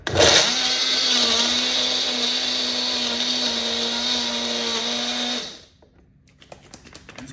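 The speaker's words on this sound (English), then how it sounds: "Now let's get the blender." A blender whirs steadily for about five seconds, blending vegan protein ice cream with fruit and milk, a loud even motor drone that cuts off abruptly into quiet.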